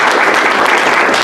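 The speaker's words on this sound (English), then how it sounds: "let's give a round of applause to all these parents for all they're doing" A school board meeting audience gives a brief, loud round of applause for parents, dense clapping filling the short moment.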